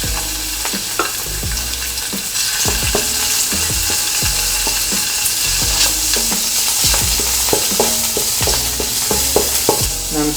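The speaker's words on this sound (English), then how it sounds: "in the same pan, I'm gonna cook the pork" Pork leg meat frying in a hot pan that earlier held egg, a loud continuous sizzle broken by frequent clanks and scrapes of stirring throughout, with no talking.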